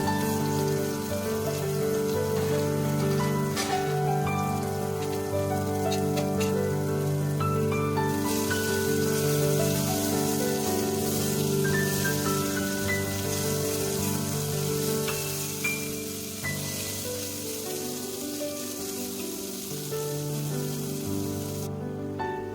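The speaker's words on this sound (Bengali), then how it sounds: "তেলটা গরম হয়ে আসলে তাতে দিয়ে দেব সিদ্ধ করে রাখা চালতাগুলো" Boiled elephant apple (chalta) pieces fry in hot mustard oil in a wok, a continuous crackling sizzle like rain that runs throughout under steady background music with no one talking.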